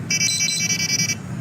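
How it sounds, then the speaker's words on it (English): Guardian monitoring device sounding its incline alarm at a structural shoring scene: a steady, shrill electronic two-tone beeping pulses rapidly for about a second, then stops abruptly, loud and close with no talking. "now my Guardian is alarmed. It says incline alarm is 66 degrees over the threshold"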